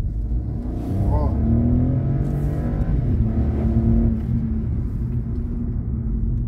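A 2023 Hyundai HB20S Platinum Plus accelerating hard through a curve, its engine droning and rising steadily from inside the cabin, with a brief voice over it.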